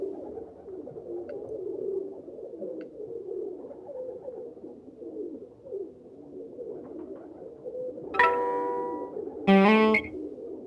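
Pigeons cooing in the video game TKKG 17: Die Feuerprobe, a soft continuous low murmur of coos throughout, with two brief louder, sharper game sound effects near the end.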